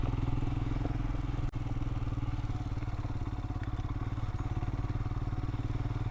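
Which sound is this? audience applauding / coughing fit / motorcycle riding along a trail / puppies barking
motorcycle riding along a trail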